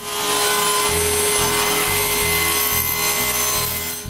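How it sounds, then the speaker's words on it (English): A power saw rips a 1/2-inch walnut board to width, its motor holding a loud, steady whine with a low droning hum and a faint rasp of blade through wood throughout. "I just need to cut the last side to width"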